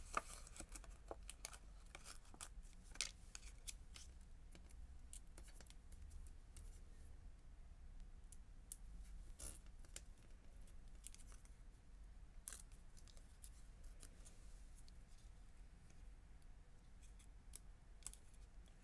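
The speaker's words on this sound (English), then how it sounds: "I'll just cut them in a few places." Scissors snip paper cloud shapes during card making with a City Sights kit, giving very faint, quiet, irregular cutting clicks at close range in an otherwise hushed room.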